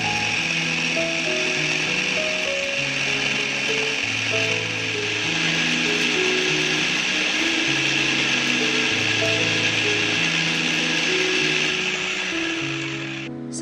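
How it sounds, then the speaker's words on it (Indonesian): Electric blender grinding a spice paste of black pepper, nutmeg and ginger for a beef steak recipe, a steady loud whirring motor with a rough grinding texture running continuously, then cutting off at the end. "Lalu kita blender hingga bumbu menjadi halus."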